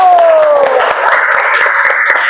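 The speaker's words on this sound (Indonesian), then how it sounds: "Yuk kita tepuk tangan, Mbak Nindi sudah mau maju." A classroom audience gives a short burst of scattered clapping for a student presenter, a few sharp claps over a background of voices, brief and close.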